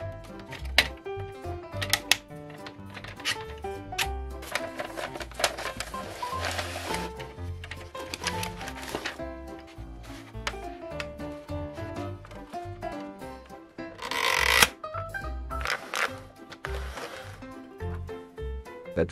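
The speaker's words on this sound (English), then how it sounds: "At first, this printer appears to be in perfect working condition." Commodore printer printing on continuous tractor-feed paper, irregular bursts of rapid clattering and buzzing strikes with short pauses, close and fairly faint, with no talking.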